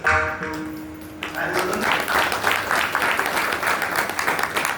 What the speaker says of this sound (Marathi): तुम्ही टाळ्या वाजवले